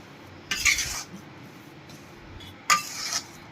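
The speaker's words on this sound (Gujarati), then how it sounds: "આપણે ગોળને એકદમ સરસ લોટમાં મિક્સ કરશું" Utensil scraping and clinking in a pan as jaggery is stirred into a thickening flour mixture for sukhdi, Gujarati sweet; two short bursts of metallic scraping separated by a quiet pause.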